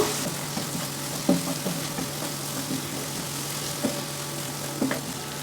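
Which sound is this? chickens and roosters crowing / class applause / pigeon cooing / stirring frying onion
stirring frying onion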